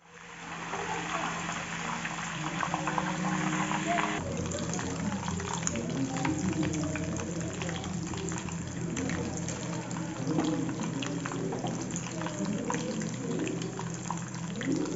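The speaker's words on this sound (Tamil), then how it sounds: "தண்ணி வெடிக்கிற சவுண்டெல்லாம் வந்து அடங்குனதுக்கப்புறம் நெய் கன்வெர்ட் ஆயிடுச்சு" Milk cream simmers in a pan at home as it turns into ghee, a continuous busy sizzle with fine crackling pops from the water boiling off, steady throughout at close range.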